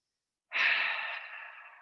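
A single long exhale during a yoga side lunge, starting abruptly after a brief silence and trailing off gradually; close and breathy, alone with no talk.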